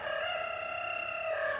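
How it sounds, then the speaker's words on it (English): A rooster crows on a homestead where vegetable seeds are being planted, giving one sustained, steady call that lasts under two seconds and sounds fairly close. "Rooster always wants to get in the shot, just like Dougie here"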